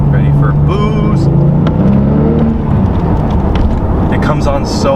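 A Porsche 911 Turbo pulls hard under boost with a loud, rising engine note that shifts in pitch, heard from inside the car amid wind roar, with a voice speaking over it.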